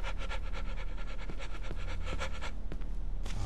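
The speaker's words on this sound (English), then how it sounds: "Oh, don't give me that heavy breathing shit." A monster in the Cry of Fear horror video game breathes heavily in rapid, rhythmic rasping pants that repeat steadily throughout, loud and close over a rumbling low background.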